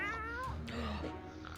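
A cat meows in the 60 Seconds video game, two drawn-out, wavering cries in quick succession, close and clear over a low background hum, the second cry rising before trailing off.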